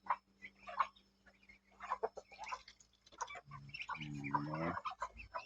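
Chickens clucking nearby in a yard: a run of short, rhythmic clucks and calls, with a louder burst of cackling toward the end, fairly close and clear.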